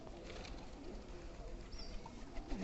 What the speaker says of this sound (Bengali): দেখেন, ওই যে দেখেন ডাক কবুতরের